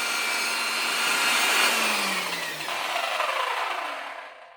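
A power tool spins a wool buffing pad to clean it, a loud steady whirring drone that rises slightly in pitch, dips, resumes and then winds down to silence at the end.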